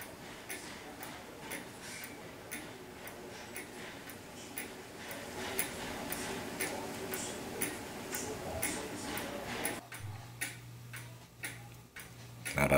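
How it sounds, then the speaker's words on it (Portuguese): Wristwatch with a cleaned escape wheel and new gasket after water damage ticks in a steady, rapid, close-up rhythm, faint and regular, with a low hum entering near the end. "aqui nós já temos o relógio em funcionamento"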